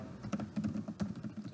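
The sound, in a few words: typing code on a computer keyboard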